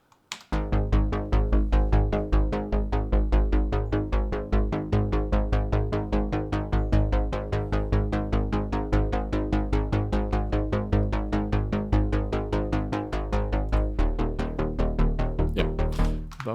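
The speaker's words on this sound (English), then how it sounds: "another custom-made bass sound for the Synth 1 VSD plugin. So here's how they sound together." Layered custom synth bass sounds, including a Synth 1 plugin patch alongside others, pulse in a fast, steady stream of short repeated notes for about sixteen seconds, loud and dense with no voices.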